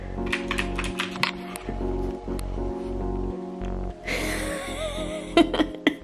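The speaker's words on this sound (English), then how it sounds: "Typing in my old password." Keys clatter on an old iMac keyboard in short bursts of clicky taps, close-up, over a steady background hum with a brief whooshing swell near the end.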